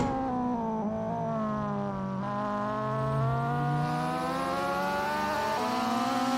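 Honda Civic race car in the Assetto Corsa sim on a mountain touge course, engine droning steadily at high revs with small shifts in pitch as it takes the bends, loud and close with no one talking.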